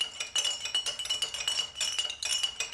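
A spoon clinks and rattles against a glass while coloured liquid is stirred, rapid light chinks in quick bursts, close and fairly faint.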